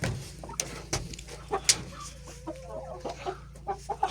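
Hens cluck in short, scattered bursts inside a henhouse in cold winter weather, with soft, close calls over a low background hum.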